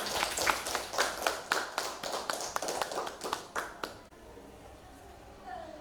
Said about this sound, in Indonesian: Tepuk tangan dulu buat temennya yang sudah maju.